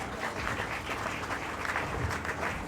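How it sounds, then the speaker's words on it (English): A crowd at a bank's grand opening applauds after a speech, dense steady clapping from many hands filling the room without pause. "Please once again a round of applause for the Managing Director of Parallex Bank"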